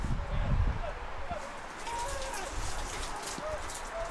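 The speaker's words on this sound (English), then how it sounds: "The rain really coming down now," Heavy rain pounding a broadcast tent at an outdoor men's soccer match, a dense steady hiss and splatter throughout, with faint bird chirps threaded over it and no talking.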